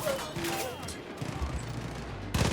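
Faint gunfire from the shooter game Far Cry 5, a run of muffled shots and thuds at low level, ending with a louder burst, with a voice talking over it.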